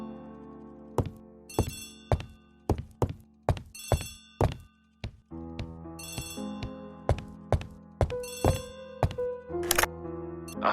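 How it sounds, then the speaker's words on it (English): Telephone bell ringing in the Agatha Christie: The ABC Murders video game, a series of sharp repeated rings in a steady rhythm with short gaps, close and clear, with a faint background tone underneath and no talk. "Poirot, the telephone."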